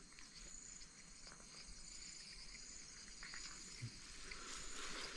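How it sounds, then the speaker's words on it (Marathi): Frogs call at night in grassy ground in coastal Konkan during a crab-catching outing, a faint, steady chorus of chirping and clicking that carries on without a break and with no voices. "बेडकांचा आवाज बघा, टक टक टक टक."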